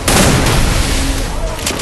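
Gunfire from the mobile battle-royale game Free Fire, a loud dense burst of shots packed at the start and a sustained crackling blast that fades slightly over two seconds, with a voice talking underneath.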